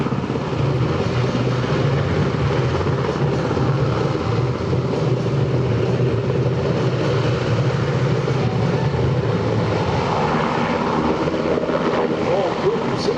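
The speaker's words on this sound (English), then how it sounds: "the search and rescue demonstration in this MH-60S helicopter" MH-60S Knighthawk helicopter at an air show search and rescue demo, a steady, loud rotor and engine drone throughout, with an announcer's voice over it.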